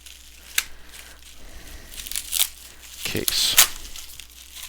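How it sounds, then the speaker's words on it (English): Packing tape being peeled off a package holding a red Powkiddy X18S handheld case, a few short tearing rips and crinkles close by, with someone talking over them. "I'm going to try to peel this tape off so that I don't cut through the"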